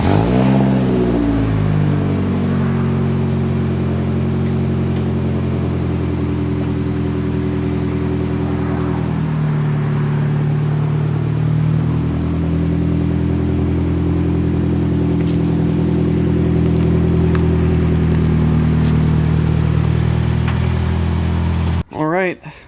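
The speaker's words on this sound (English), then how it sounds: "now with the car back on the ground, it's time to hit the road one last time" A Nissan Sentra car driving on the road, its engine rising in pitch as it accelerates through the gears, then settling into a steady cruising drone heard from inside the car, ending with a sharp clunk.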